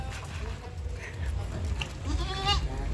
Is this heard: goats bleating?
yes